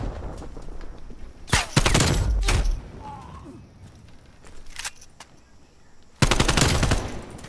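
Bursts of hostile sentry turret gunfire in a video game, loud rapid volleys at roughly 1.5 to 2.7 seconds and again near the end, with a shorter burst midway over a low rumbling background.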